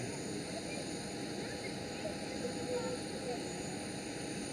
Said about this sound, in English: Right there is Qatar Cargo taxiing towards the stand.